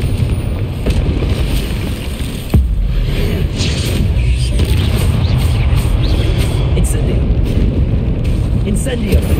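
Confringo, a fiery explosive spell in Hogwarts Legacy played on PS4, bursts as a loud, near, rumbling boom with a sharp crack partway through, then keeps roaring over dense game battle noise, with faint character voices mixed underneath.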